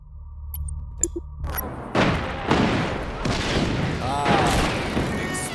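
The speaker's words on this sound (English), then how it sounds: "Explosion to remember." Explosions and gunfire from the open-world action game Just Cause 3: a sharp blast near one second, then a dense barrage of booms and rattling shots rolling on at high volume for several seconds.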